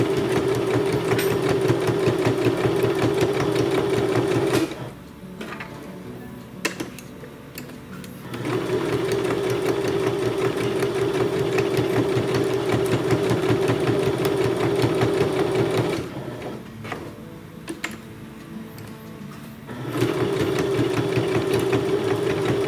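A sewing machine runs steadily while stitching around a folded fabric coaster, two long continuous bursts broken by brief pauses as the fabric is turned with the needle down, close and fairly loud with no talk.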